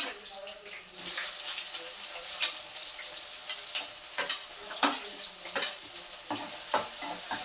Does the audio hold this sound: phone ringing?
no